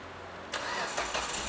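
Perodua Kancil car engine starting after stalling, a sudden starter crank that catches into a close, loud, rough mid-pitched idle.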